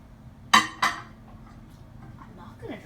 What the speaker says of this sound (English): he's going to put it in the microwave